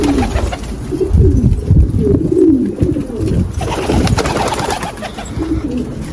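Pigeons coo in a coop, several birds giving low, rolling, throaty calls that overlap continuously at close range.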